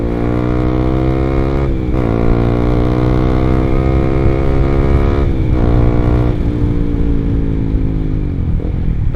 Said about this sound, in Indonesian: By the way, CBR-nya pakai knalpot R9 ya. Wah, enak sih suaranya.